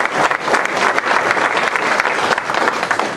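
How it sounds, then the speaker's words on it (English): A community crowd at Wolbach, Nebraska's 125th anniversary celebration gives a steady, dense round of applause, loud and close, with many hands clapping continuously for the full stretch and no talk over it. "So would you please give them another round of applause for everything they've done for Wolbach?"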